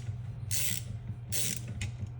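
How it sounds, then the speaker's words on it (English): A 10 mm wrench loosens the top bolts on an AFC-50 knife block, giving two short bursts of ratcheting clicks close by, separated by a brief pause, with a low steady hum underneath and no talking. "And you'll just want to open up these top 2 bolts."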